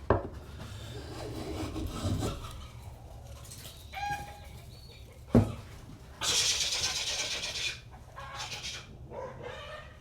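Rough sawn wood worked with a hand plane, giving raspy shaving strokes in separate bursts, one sharp knock, and a long bright stroke near the middle, close and moderately loud with no talking.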